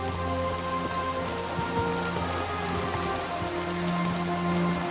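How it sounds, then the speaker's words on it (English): Steady, heavy rain pours down in a continuous wash of noise in the video game Kingdom Come: Deliverance 2, with faint low tones running underneath and no voices. "Torrential downpour."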